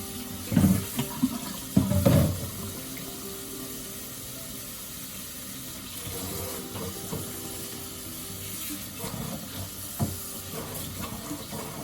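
Hot water runs from a tap into a kitchen sink to soak a large chicken egg before scrubbing, a steady soft hiss of flowing water with a few louder splashes and clunks near the start.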